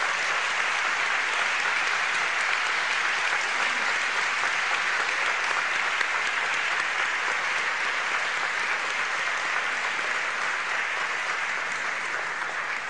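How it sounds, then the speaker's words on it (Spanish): A large audience at an arts recognition ceremony applauds in a dense, continuous roar of clapping that holds steady and loud for the whole stretch with no voices over it. "acompáñenme a darle un aplauso"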